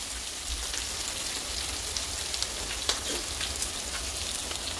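Dry fish (boro mach shutki) goes into a pan of spiced potatoes for a Sylheti curry, giving a steady close hiss and crackle of frying with small pops scattered throughout.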